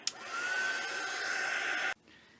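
A heat tool blows a steady high-pitched whir while drying ink spread with a baby wipe on a journal cover, running alone for about two seconds before cutting off abruptly.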